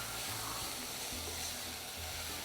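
Garlic frying in a pot while cooking Trini pigeon peas, a faint, steady sizzle with a soft hiss and no clear breaks.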